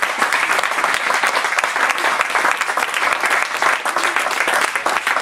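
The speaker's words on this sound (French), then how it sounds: "Acclame très fort, monsieur." A church congregation applauds loudly and continuously, a dense wash of clapping hands that holds steady at full strength for the whole stretch.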